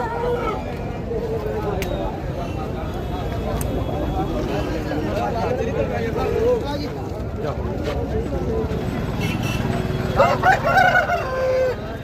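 Roosters crow now and then through the loud hubbub of a busy chicken market, with many people talking and haggling all around and a clearer crow near the end.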